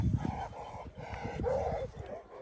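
Anatolian shepherd dogs give a run of yips, short barks and whimpers close by, a restless, agitated chorus carrying on continuously through the moment.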